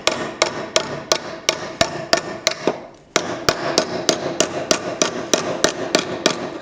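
Sharp, evenly spaced hammer blows strike metal while shaping an exhaust manifold for a wide-body two-door Jaguar Mk2, loud and close, around twenty taps with a short pause partway through.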